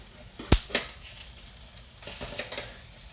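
An onion drops onto a hot frying pan among charring food, a sharp near impact followed by soft sizzling and a few scrape-like stirring bursts at moderate volume.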